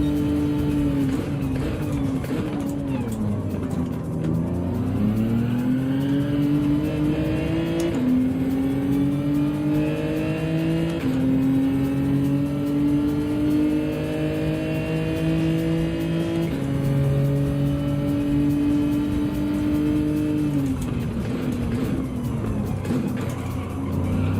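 Gran Turismo 7 race car at full throttle in an online daily race: a loud, close engine rising in pitch through the gears with sharp shift drops, sustained and steady, with tire noise and other cars faintly underneath.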